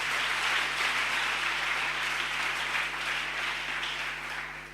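Church congregation clapping and applauding the Lord, a dense, sustained wash of hands from a large crowd that slowly tapers off toward the end.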